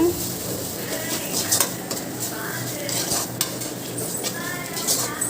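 Onions with turmeric and salt stirred in a pan for Tamil-style siru keerai poriyal: steady scraping and clinking of a spoon against the metal pan over a soft sizzle, with occasional louder knocks, close and continuous.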